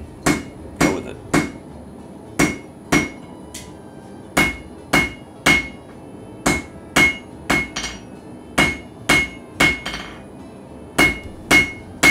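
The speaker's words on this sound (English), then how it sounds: "beat over the horn, drawing out that taper until it's about 15 or 16 inches long overall" Steel wand taper being hammer-forged over the anvil horn, loud sharp ringing blows in an uneven rhythm of about two dozen strikes, some single and some in quick pairs, with no talking.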